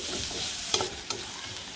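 Onions frying lightly in a pan, a close, steady sizzle with a few soft stirring taps over under two seconds, no voices.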